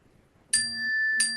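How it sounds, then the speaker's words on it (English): Two bright electronic bell dings strike a moment apart in a quiet room. The first rings out with a sustained tone and the second begins just as it fades. "I don't know what that bell means."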